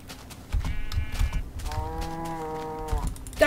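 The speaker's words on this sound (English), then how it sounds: "Oh, there's a cow." A blocky Minecraft cow in the Tekkit modpack gives two drawn-out moos, the second longer, heard clearly over faint game background noise.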